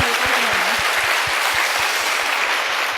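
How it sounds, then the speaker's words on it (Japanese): Applause fills a church evangelism meeting in Japan, a loud, dense wash of clapping with a few heavy rhythmic thumps under it and one voice briefly rising over the start. "우리 하나님께 영광의 박수를 보냅시다."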